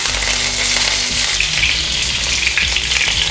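Cumin seeds and curry leaves spit and crackle loudly in hot oil, a bright, close sizzle with occasional stirring, continuous and unbroken, with no voices.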